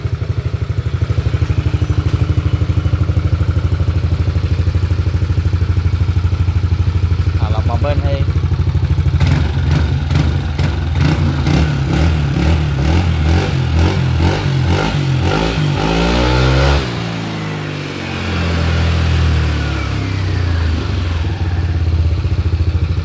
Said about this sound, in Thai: ก็ฟังเสียงเครื่องกันครับ